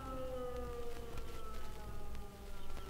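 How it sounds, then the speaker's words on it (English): A wartime air raid siren wails during the Six Day War battle for Jerusalem, its steady rising and falling tones held over a low background rumble of distant activity, moderately loud and continuous throughout. "The siren continues its wail."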